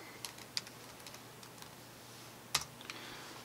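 Typing on a computer keyboard at a desk, a few sparse, quiet key taps with one louder clack, close by in a quiet room.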